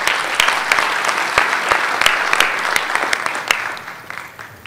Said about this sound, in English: Can't believe they're applauding for my question already.